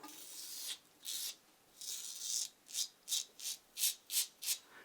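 Yates Ti safety razor with its blade tightened down, scraping across stubble in a series of short rasping strokes, the first few longer and the last several quick and evenly spaced, close and clear with no talking.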